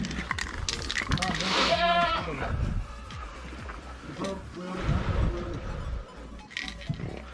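Goats bleat outdoors at a busy, noisy sheep and cattle farm during vaccination work, their cries mixed with people talking nearby.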